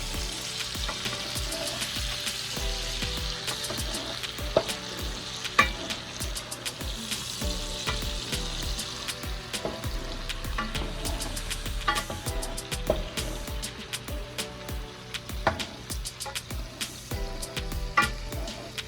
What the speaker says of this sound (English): now we're gonna add our final ingredient, which is the rice wine